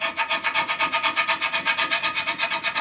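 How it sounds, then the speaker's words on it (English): Hand scraping of rust off a metal surface, a steady back-and-forth rasp with about eight strokes per second, close and fairly loud with no talk. "you end up scraping this stuff"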